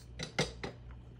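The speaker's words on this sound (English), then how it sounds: "you have to stir the noodles once in a while so they don't stick to the pot" A utensil scrapes and clinks against a pot while egg noodles for kluski are stirred, three or four quick metallic knocks and scrapes close by, with a brief quiet tail.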